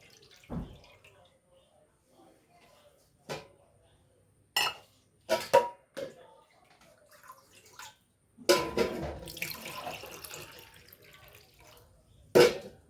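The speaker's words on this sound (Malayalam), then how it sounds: "ഇത്ര തന്നെ വെള്ളം ചേർത്ത് കൊടുക്കാം കേട്ടോ." Water is poured into a cup of milk while making mixed fruit juice. Scattered knocks and clinks come first, then a splashing pour of a second or two near the end.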